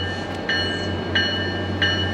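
An MBTA commuter train hauled by a Keolis-operated F40PH-3C diesel locomotive rolls past at Readville. A steady low engine and rail drone carries three evenly spaced clacks of wheels crossing rail joints.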